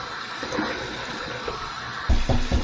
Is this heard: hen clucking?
no